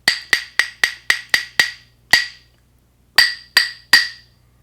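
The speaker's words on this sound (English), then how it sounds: "I'm going to use the claves to play that part." Claves are struck in a crisp rhythm: a quick run of seven evenly spaced clicks, a single hit after a short gap, then three more spaced strikes, all bright, woody and close with nothing else sounding.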